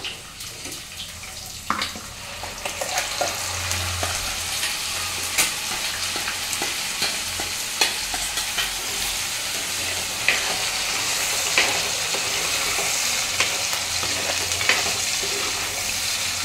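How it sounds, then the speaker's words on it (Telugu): A tomato and onion gravy for paneer butter masala fries in oil, a dense continuous sizzle with frequent stirring clicks and scrapes of a spoon, close up, steady for the whole stretch with no talking. "కొద్దిసేపు మంచిగా నూనెలో ఫ్రై అయిపోవాలి ఈ గ్రేవీ"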